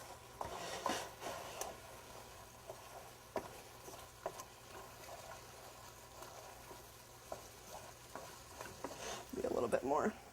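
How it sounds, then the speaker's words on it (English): Flour being stirred into venison stroganoff in a pan, with soft scraping stirs and light sizzling, faint and intermittent with a few louder clinks and a busier patch of stirring near the end. "I'm going to stir it in."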